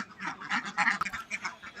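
Several ducks quack close by at a pond-side duck farm in quick, overlapping bursts, a lively chattering flock.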